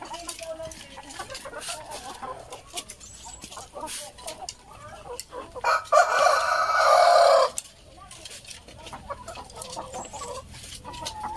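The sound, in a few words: backyard laying hens clucking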